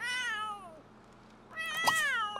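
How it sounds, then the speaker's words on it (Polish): A cat in the video game The Sims 3 meows twice, the first call falling in pitch and the second rising sharply and louder, with quiet between the two. "Daj mu coś, żeby się uspokoił ten kot."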